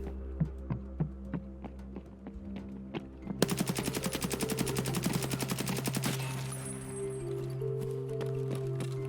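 Rapid bursts of suppressed subsonic gunfire in Escape from Tarkov: single muffled shots at first, then a fast sustained string of thudding rounds, loud and close over a steady low hum, with no voices.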